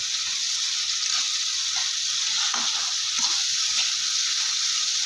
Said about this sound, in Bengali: আমি এই মশলাটা যতক্ষণ না তেল ছাড়ছে ততক্ষণ পর্যন্ত কিন্তু কষাতে থাকবো